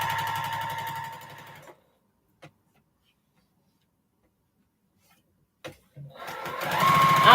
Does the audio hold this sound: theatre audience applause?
no